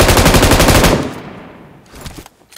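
Rapid enemy machine-gun fire in a mobile shooter game, loud and dense for about a second before cutting off, followed by a few fainter scattered shots.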